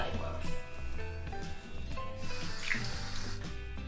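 Kitchen tap water runs steadily into a sink while a cleaned black sea bream, gills and guts removed, is rinsed under it, a continuous close splashing stream.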